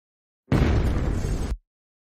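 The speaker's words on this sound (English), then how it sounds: "What was that? It sounded like an explosion." A single loud explosion aboard the Titanic bursts in suddenly, a dense roar holding steady for about a second before cutting off sharply, heard alone with no voices.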